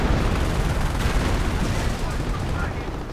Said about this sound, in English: Artillery getting called in on the trench